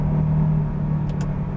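Deep, loud rumble from the engine of a KTM X-Bow GT-XR as it accelerates on the road to overtake another car, heard from inside as a steady low drone without talk.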